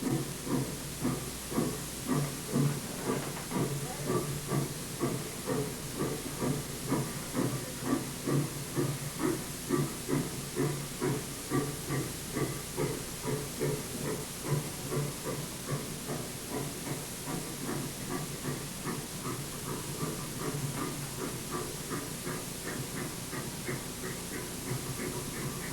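Maine Central steam locomotive 460 working with steady rhythmic chuffs and hissing steam, a regular pulsing beat that holds throughout at moderate distance with no voices.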